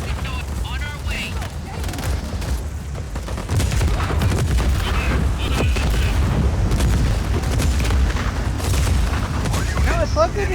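Tank cannon fire and explosions in Just Cause 4, with repeated booms and gunfire bursts building into a dense, continuous barrage over about ten seconds.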